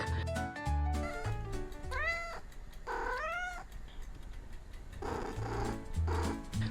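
A cat meows twice with rising and falling calls between plucky, toy-like musical notes, clear and close in a busy, bouncy backdrop.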